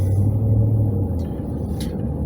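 Steady, close road rumble from a car moving through heavy traffic on Atlanta's I-285. The deep engine and tyre drone holds constant, with a faint passing swish near the end and no voices.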